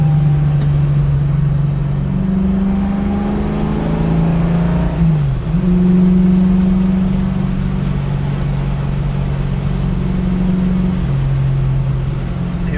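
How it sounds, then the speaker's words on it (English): A 1967 Mustang's engine drones steadily from inside the car, then blips and drops in pitch in a heel-toe downshift going into a corner before settling into a steady pull, loud and close throughout. "Downshift, heel toe going in this corner."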